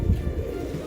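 Low, rounded cooing from a large long-tailed pigeon of a fancy breed, a soft continuous murmur close by with no talking over it.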